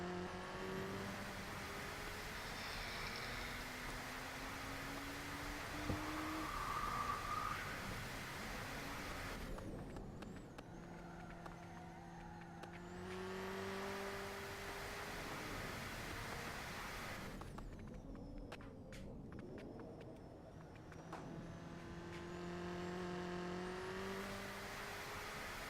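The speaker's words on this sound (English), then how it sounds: "you can hear that the engine is crackling and having exhaust fire in it" A turbocharged car engine in the Automation car-building game runs steadily with rising and falling revs, a continuous mid-level exhaust drone with faint crackle and no voices.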